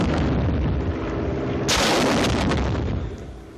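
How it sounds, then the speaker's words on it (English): WWII-era rocket launch, a loud roaring blast with a sudden sharper burst partway through, then the rumble trails off, heavy and close, with no voices. "And these rockets are fired the same, with one exception."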